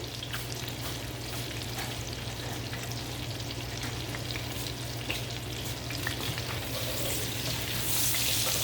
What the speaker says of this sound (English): Let them onions saute up just a little bit.